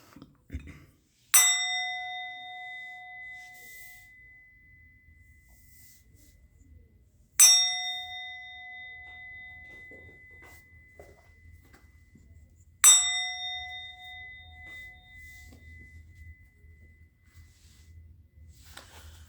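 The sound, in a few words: ringing a bell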